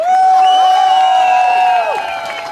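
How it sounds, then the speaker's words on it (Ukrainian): A crowd at a public gathering shouts "Glory to heroes" in a single loud, sustained collective cry that holds for nearly two seconds and then tails off. "І залунали вигуки Слава героям."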